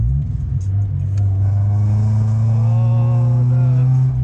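Scion FR-S with Skunk2 unequal-length headers and a Spec-D catback exhaust, revving with a loud, droning, steady engine note close by.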